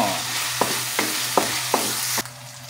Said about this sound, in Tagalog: Haluin ng haluin